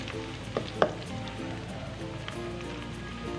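Onions fry in a pan toward light brown for a karahi, a soft, steady sizzle close by, broken early on by a couple of sharp utensil clicks.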